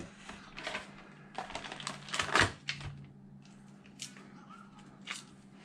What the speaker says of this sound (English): I'll just cut them.